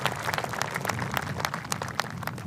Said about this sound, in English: Her teammates cheering her on.